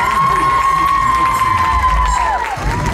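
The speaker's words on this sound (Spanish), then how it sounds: "Fuerte el aplauso, fuerte" A crowd cheers and shouts loudly after a surprise dance at a quinceañera, with a long high whistle-like tone held over the noise before it bends and drops away near the end.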